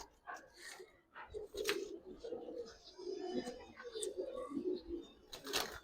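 Giribaz pigeons coo softly in low, rolling bursts that repeat through the clip, with faint chirps and a light background murmur.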